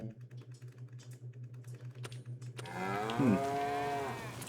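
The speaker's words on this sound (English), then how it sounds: "there's a lot of cattle in there." Cattle inside a cow barn let out a long, loud, close moo after a stretch of rhythmic clicking and light tapping, the low bellow holding steady to the end.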